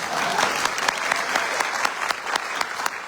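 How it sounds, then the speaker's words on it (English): An audience at a memorial gathering applauds performing artists, including a pianist, with dense, steady clapping throughout, close and fairly loud, with no talking. "We can never applaud performing artists enough."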